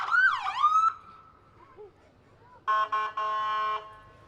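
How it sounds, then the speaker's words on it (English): A loud ambulance siren wails with a rising-falling sweep during a parade, then after a pause blasts a harsh, sustained electronic horn in two bursts, close and strong. "And the new ambulances, the horns work really good on them."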